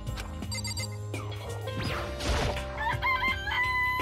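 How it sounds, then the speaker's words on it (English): Rooster crowing and clucking from the Danganronpa video game, a clear cock-a-doodle-doo rising over game music, with a crash and bright chiming tones following. "It's a chicken."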